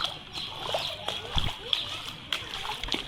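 Floodwater splashing and sloshing around a flooded house, with irregular close splashes and a steady watery wash, under a voice talking.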